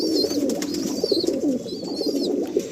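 Kalsira pigeons coo continuously inside an Andhra pigeon loft in Barrackpore, with soft overlapping throaty calls close by and a few higher chirps above them.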